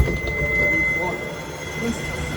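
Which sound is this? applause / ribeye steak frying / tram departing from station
tram departing from station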